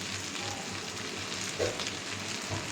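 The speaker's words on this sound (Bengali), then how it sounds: "দেখতেছেন যেভাবে আমি ভালো করে নেড়ে নিচ্ছি বারবার" Rice for pulao stirred and frying in a wok, a soft continuous sizzle with faint scraping from the stirring and one brief clink partway through.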